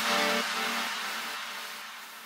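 Yamaha Tracer 900 three-cylinder motorcycle engine, one continuous pass that opens loud and close, then fades steadily as the bike pulls away.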